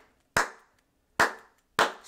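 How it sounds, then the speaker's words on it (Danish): Three sharp, loud hand claps ring out one at a time, each followed by a short echoing decay in a quiet room, with no talking. "Og nu kan jeg så i det mindste klap"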